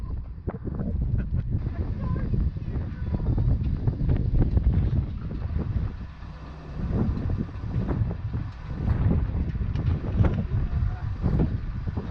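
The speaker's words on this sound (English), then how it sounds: "Really windy day today. We're expecting gusts to 60 miles per hour" Strong gusty wind outdoors on a homestead, with gusts forecast near 60 mph, buffeting the microphone in loud, uneven rumbling bursts that rise and fall throughout.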